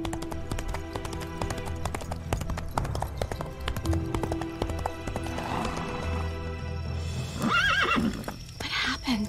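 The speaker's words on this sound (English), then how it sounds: "Wow, that is a nice horse." A horse in a video game clip-clops with steady, close hoofbeats, then lets out a loud whinny near the end, with speech over parts of it.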